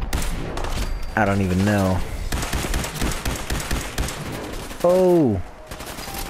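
Rapid bursts of weapon fire from Fallout 4, dense automatic shots and thuds throughout, with someone talking and exclaiming over the shooting.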